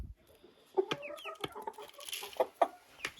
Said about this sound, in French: Et c'est des poussins coucou dorés